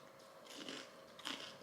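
Crunchy bites into vegan breakfast toast topped with sun-dried tomatoes, salt and pepper: two short, quiet crunching bursts close to the mic, with no talk.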